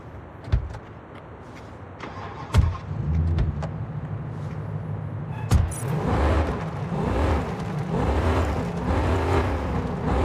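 A car in the video game Gangstar Mirage City drives with a steady engine hum and road rumble, broken by several sharp thuds or door-like clunks. Later the rumble grows busier, with some muffled voices mixed in.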